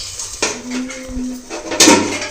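A metal lid is set over a pan on a tawa to steam rice-flour chilla. A sharp clank is followed by a ringing scrape and a second louder clatter, close and loud, with no speech.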